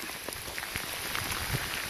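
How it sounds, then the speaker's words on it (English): Steady rain pours onto a swamp, a dense continuous hiss of drops with scattered sharper patters on nearby surfaces, close and even throughout. "So it's raining now."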